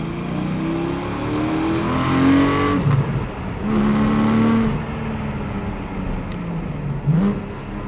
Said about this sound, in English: This has the 4-litre naturally aspirated flat 6 engine.